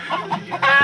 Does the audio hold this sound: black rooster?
yes